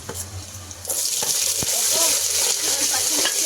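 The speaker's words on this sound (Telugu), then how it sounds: "దీన్ని బాగా ఫ్రై చేసుకోవాలండి ఒక 5 minutes" Dried red chilies and green chilies hit a hot pan and break into a loud, steady sizzle that swells after a soft start and carries on close by, with faint clinks from a utensil.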